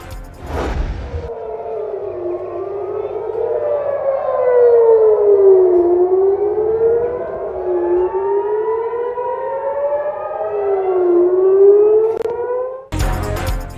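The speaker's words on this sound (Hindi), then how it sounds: "मकबूजा बैतुल मक़दस समेत मुख्तलिफ शहरों में सायरन बज उठे।" Air raid sirens wail across cities including Jerusalem during a Houthi missile attack on Israel, several rising and falling tones overlapping in long sweeps, loud and continuous for most of the stretch with brief noise at the start and end.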